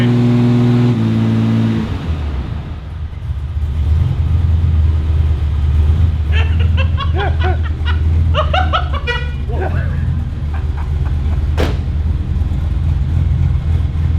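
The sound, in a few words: ute engine idling choppy with stage 4 cam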